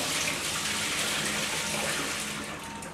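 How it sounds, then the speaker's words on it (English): Water poured steadily into a cooking pot of Polish cabbage kapusta, a continuous close rushing splash with no talk over it. "Okay, and now I'm gonna pour some of this water"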